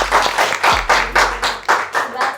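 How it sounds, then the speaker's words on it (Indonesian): An audience at a Bank Indonesia GenBI talk event claps in a steady rhythmic beat, roughly ten pulsing rounds, with a voice faintly underneath. "jadi kita berikan tepuk tangan sekali lagi untuk"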